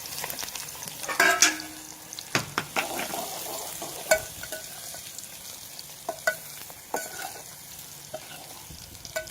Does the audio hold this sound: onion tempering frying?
yes